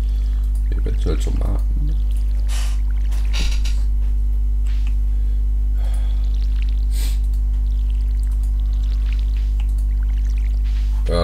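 Splashy watering-can pours onto crops in the farming game Stardew Valley, several short liquid bursts near the start over a loud steady hum, with someone talking.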